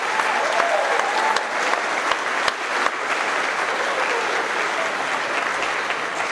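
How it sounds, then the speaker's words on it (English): A crowd at a Melton Truck Lines company celebration applauds drivers, a dense, loud, steady wash of clapping with occasional sharper claps, sustained across the whole stretch. "Let's give these guys a round of applause."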